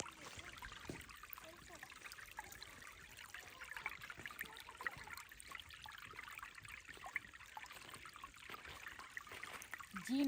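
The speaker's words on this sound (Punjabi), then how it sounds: "ਜੀ ਨਦੀ ਚੱਲ ਰਹੀ ਆ।" A small river flows near a village, heard as a quiet, steady trickle and burble of running water that continues without a break and has no speech over it.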